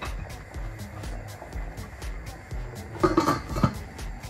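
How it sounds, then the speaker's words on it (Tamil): A metal spoon scrapes and clinks in a pot as jeeraga samba rice for mint pulao is stirred, a soft rhythmic clatter at close range, then a few louder knocks as a lid is set on the pot. "ஒரு லைட்டாக பரட்டிட்டு நம்ம மூடி வச்சிடலாம்."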